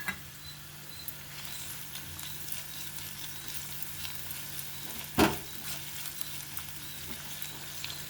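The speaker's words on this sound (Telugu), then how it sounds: "పచ్చివాసన పోయే వరకు వేగించుకోవాలి." Ginger garlic paste fries in a pan with a faint, steady sizzle and light patter, broken by one brief louder clatter midway.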